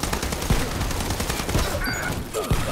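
Rapid gunfire in the first-person shooter game Dirty Bomb, loud sustained bursts punctuated by a few sharper single shots, with no talking.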